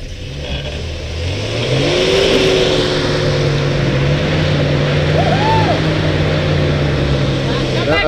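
An automatic car stuck and wedged in place revs its engine loudly and steadily, the pitch climbing and holding with brief rising surges, close by.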